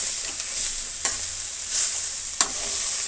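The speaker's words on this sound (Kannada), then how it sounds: "ಇದನ್ನು ಕೂಡ ನೀಟಾಗಿ ಕಲಸಿ ಮತ್ತೆ ಒಂದು 2 ನಿಮಿಷ ಮುಚ್ಚಿ ಆಗಾಗ ತಿರುಗಿಸ್ತಾ ಇರಬೇಕು" Ivy gourd fry with tomato stirred in a pan: a steady close sizzle with a few sharp scrapes and taps of the spoon against the pan.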